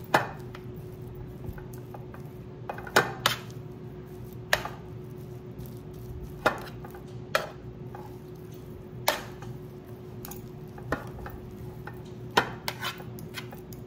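Buffalo chicken dip ingredients are being mixed in a bowl: a soft, steady background rustle with sharp clinks of the utensil against the bowl landing every second or two, close and moderately quiet, with no talking.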